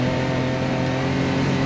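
A UTV engine pulls steadily in high gear, a constant loud mid-pitched drone with a low rumble, heard up close throughout with no talk.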